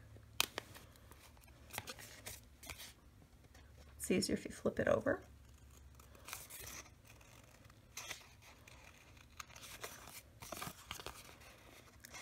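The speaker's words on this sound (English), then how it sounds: "Then take your scissors and trim off anything that's not quite perfect." Sharp scissors snip and trim the edges of a paper tag in a Graphic 45 flip frame craft project, a short burst of crisp cutting and rustling near the middle, with a voice speaking briefly.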